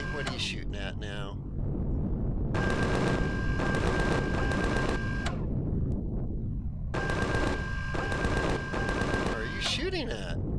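Rapid automatic gunfire in the space survival game Empyrion Galactic Survival, fought against bugs, comes in two long sustained bursts with a steady tone running through them, loud and close, with talk and game sounds before and between the bursts.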